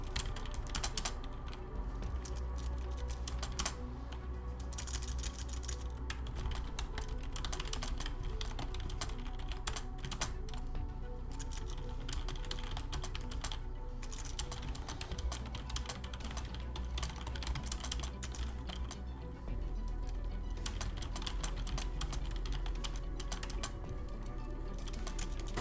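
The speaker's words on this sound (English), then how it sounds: "Here, have some typing ASMR." Steady, continuous typing on a computer keyboard, dense rapid key clicks running throughout at an even close level with no speech.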